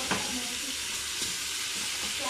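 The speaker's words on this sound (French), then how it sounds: "Et mon beurre, il a bien fondu, il est bien chaud. Donc je mets ma viande." Beef pieces searing in hot melted butter in a pan for a beef bourguignon, giving a steady broadband sizzle with a few faint scraping stirs, close and continuous, with no talk.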